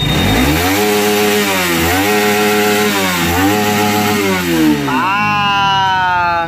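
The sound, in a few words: motorcycle engine rev bomb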